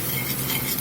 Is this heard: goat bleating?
no